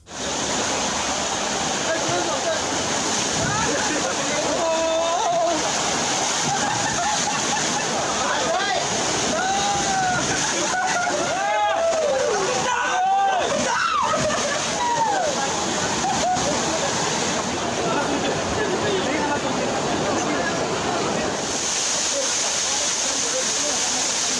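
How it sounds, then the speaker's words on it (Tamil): Steady, loud roar of Pepper Falls waterfall in Kodaikanal with tourists bathing, continuous splashing and rushing water throughout, with voices and shouts faintly mixed into the torrent. "கொடைக்கானலில் உள்ள பெப்பர் ஃபால்ஸ் பகுதியில் குவிந்த ஏராளமான சுற்றுலா பயணிகள் உற்சாகமாக அருவியில் குளித்து மகிழ்ந்தனர்"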